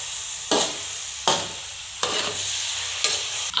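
Grated carrot halwa frying in a pan, stirred in four distinct scraping strokes over a soft continuous sizzle, close and fairly loud.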